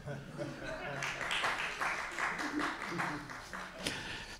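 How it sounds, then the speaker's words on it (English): Applause from an audience at a book presentation on higher education in America, moderate and somewhat distant, carrying on steadily for several seconds and mixed with crowd murmur. "It's the only time I've ever got applause for promoting death."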